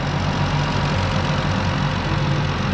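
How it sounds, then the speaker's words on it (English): A Chrysler/Dodge 3.6L V6 engine idles steadily up close, a smooth even hum with a faint rapid ticking of injectors clicking running through it. "I can hear our injectors clicking away."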